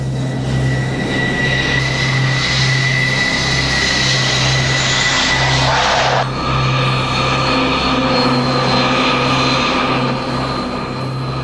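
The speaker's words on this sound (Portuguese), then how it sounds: "O versátil McDonnell Douglas FA-18 Hornet é hoje a mais importante aeronave de assalto da frota americana" A McDonnell Douglas F/A-18 Hornet fighter jet roars steadily with a loud whining turbine drone that swells to a rushing peak partway through, then carries on without any talking.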